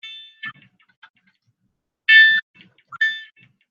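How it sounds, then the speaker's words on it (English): A fire alarm device goes off after its wires are shorted, giving short, sharp electronic beeps in separate bursts with silent gaps between them, loud and close. "alarm goes off."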